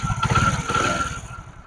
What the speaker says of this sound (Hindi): तो दोस्तों मैं बाइक अब स्टार्ट करने लगा हूँ, आपने पहले भी इंजन का साउंड सुना था